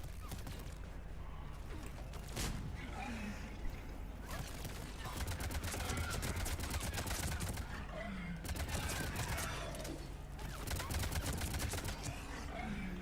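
Rapid bursts of gunfire from the video game Mass Effect 3, shots crackling in repeated volleys throughout amid game sounds, with someone talking over much of it.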